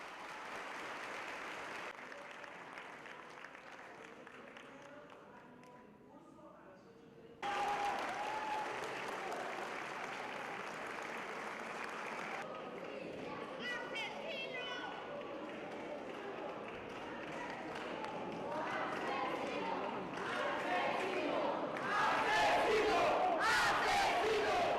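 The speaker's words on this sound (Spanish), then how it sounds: "Incluso hubo gritos de asesino en medio de los aplausos." Courtroom crowd bursts into sustained applause after a verdict of 90 years in prison is read, with whistles and angry shouts of "assassin" mixed in, loud and dense throughout and swelling toward the end.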